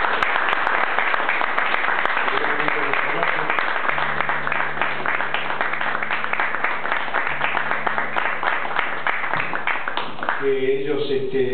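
Sustained audience applause at a Chilean-style retro comedy and magic show, dense steady clapping throughout with a low hum underneath and a voice starting to speak near the end.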